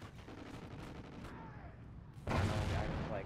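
Gunfire in a video game clan match comes as a quick series of shots, then a louder burst near the end, with some faint game noise in between.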